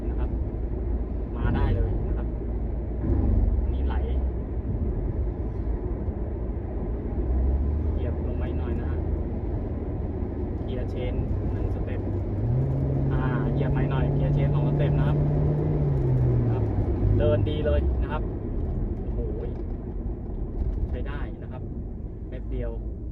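A Toyota Camry 2.5 running on LPG, revving on a dyno: a steady loud engine drone that swells into a brief higher rev, then settles back. Voices talk over it now and then.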